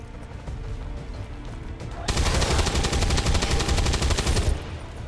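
Rapid bursts of video-game gunfire from XCOM, a dense rattling volley that starts suddenly and runs for a couple of seconds over a low battle-ambience rumble, loud and close, without speech.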